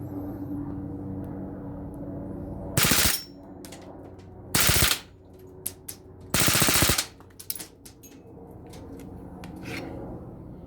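A Crosman P1 air gun fires on full auto at a paper target, with three short loud bursts of rapid buzzing shots over a steady mechanical hum, then a few single pops.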